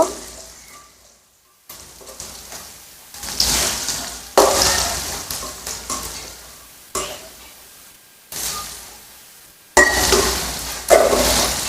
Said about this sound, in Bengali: আর পেঁয়াজ ভাজা প্রায় শেষ